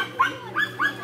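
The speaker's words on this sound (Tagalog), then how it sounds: "Kinaliguan ang ingay-ingay ng aso." A small dog gives four quick, high yips in a steady rhythm, fairly faint and not too close.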